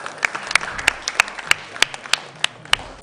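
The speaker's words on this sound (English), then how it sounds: "Round of applause, please." Sparse, separate claps from a small audience at a school quiz competition between junior high schools, each sharp clap standing alone at an uneven pace, fairly close, with no voices.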